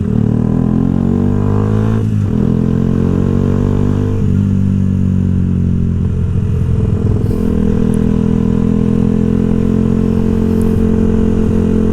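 A Yamaha YZF R125 motorcycle rides along with a close, steady engine drone, its pitch rising through the gears with brief dips at shifts, then holding a constant cruising tone under wind noise.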